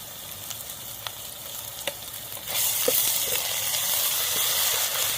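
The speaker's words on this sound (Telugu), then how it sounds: "అల్లం పేస్ట్ ఎప్పుడైనా కానీ పచ్చివాసన పోయే వరకు వేగాలండి" Ginger paste sizzling and frying in a pan, a soft crackle that swells into a louder steady hiss partway through, with occasional stirring clicks from a utensil.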